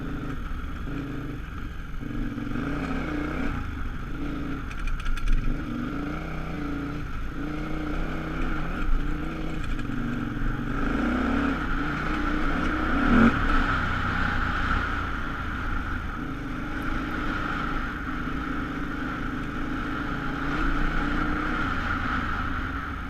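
A KTM 950 Adventure motorcycle rides over harsh, rocky terrain around Moab, its engine a steady, close drone broken by occasional knocks and scrapes from the rocks, with no talking.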